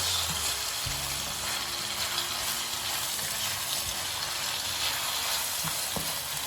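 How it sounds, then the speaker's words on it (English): A spinach and prawn sauce frying in coconut oil in a pan, a loud, continuous close sizzle with occasional stirring scrapes and knocks, no voices. "I'm aiming to fry this until it starts to caramelize, just a little, not too much"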